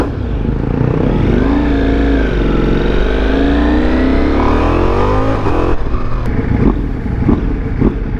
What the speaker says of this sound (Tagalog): Dito sa low RPM, smooth naman yung engine.